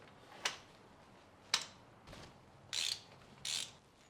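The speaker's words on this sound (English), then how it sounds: "with a 16 thin walled socket, we're going to remove these." A socket wrench with a thin-walled 16 socket loosening spark plugs on a Ford Escort XR3i, giving several short separate ratcheting bursts, faint and close, with quiet pauses between them.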